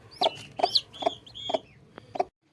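A hen clucks close by in a home backyard hatching setup, about six sharp clucks in a quick, even rhythm before falling silent.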